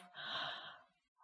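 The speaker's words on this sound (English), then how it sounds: "Exhale through the mouth." A single slow exhale through the mouth during a guided yoga nidra breathing exercise, soft and breathy, close and quiet, rising and fading over about a second.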